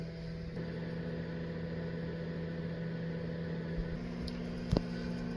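A steady low mechanical hum from a small 1,000-watt microwave oven running in a teardrop camping trailer drones on without change, with a brief clunk near the end.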